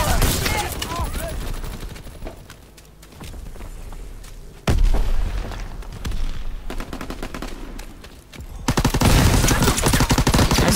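Rapid bursts of automatic gunfire and single shots from Call of Duty WWII, loud and near, with a heavy boom midway and a dense sustained volley at the end.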